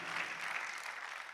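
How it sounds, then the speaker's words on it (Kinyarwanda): A congregation at a church service applauds in praise of God, a dense, steady wash of clapping from many hands, moderately distant and without a break for its brief length. "Dukomere Imana amashyi cyane."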